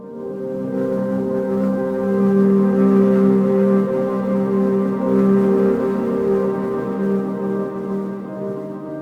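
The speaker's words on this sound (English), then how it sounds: "and then this dark like pad" A dark synth pad layer for a beat holds a steady, sustained drone with layered low and mid tones, swelling slightly and continuing alone without drums or voice.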